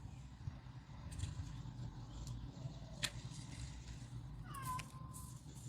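A cat meows a few times, faint and somewhat distant, over a low background rumble with occasional soft knocks.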